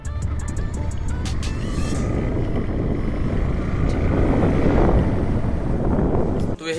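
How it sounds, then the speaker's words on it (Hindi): A motorbike rides at speed, with a steady, loud rush of wind and engine roar buffeting a helmet-mounted phone for several seconds, with a brief dip near the end. "लोगों देख लिया हम लोग बाइक स्पीड में भी चला सकते हैं,"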